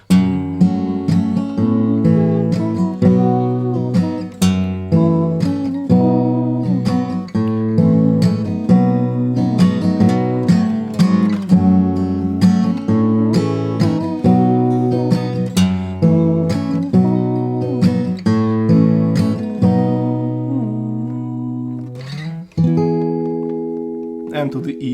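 A song played on guitar in an open tuning: steady picked notes and ringing chords over a sustained low bass, ending with a softer, lingering chord.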